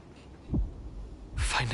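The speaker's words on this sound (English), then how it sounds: "Finan's heartbeat." Two soft, low heartbeat thumps in Honkai Star Rail, spaced about a second apart and faint against a quiet hum, suggesting Finan's weak, fading heartbeat.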